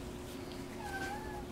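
A five-year-old domestic medium hair cat gives a single drawn-out meow, faint and thin, over a steady low indoor hum.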